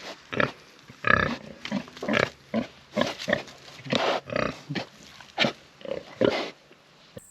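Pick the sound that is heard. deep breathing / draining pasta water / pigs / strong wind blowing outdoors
pigs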